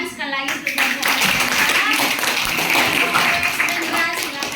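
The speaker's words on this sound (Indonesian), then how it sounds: "tepuk tangan sekali lagi untuk kelompok WS" A group of participants in an academic coaching session claps for a presenting team, a dense, steady burst of hand claps lasting several seconds with voices mixed in underneath.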